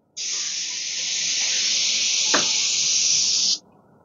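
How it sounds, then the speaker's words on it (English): Paint spray gun held close, spraying a Shaker style door: a loud, steady broadband hiss that starts abruptly, holds evenly for about three and a half seconds, then cuts off sharply. "I am just going to spray towards myself and try and just get that gun quite close"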